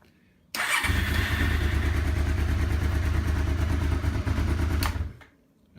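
A Honda CB500 motorcycle engine cranks and catches after a moment of silence, then settles into a loud, steady close-up idle for about four seconds before cutting off.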